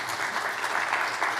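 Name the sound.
audience applause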